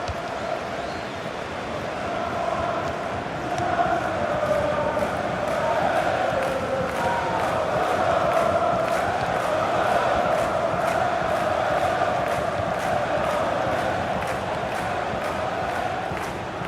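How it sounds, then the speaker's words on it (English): Stadium crowd in a FIFA 16 Premier League football match, Crystal Palace versus Leicester, keeps up a steady, loud roar of cheering throughout, with no pauses. "the crowd really enjoying it"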